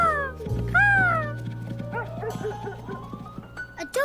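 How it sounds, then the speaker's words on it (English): A cartoon dog barks in a children's animated show, with a few short yips and whimper-like calls standing out over a steady low musical hum. "A dog barking."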